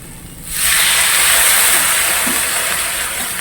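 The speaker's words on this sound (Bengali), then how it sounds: "এর পরিবর্তন জল দিয়ে দেবো" Water poured into a pan of frying vegetables, a sudden loud sizzle and hiss that bursts in after a brief quiet and holds steady, close up, with no talk.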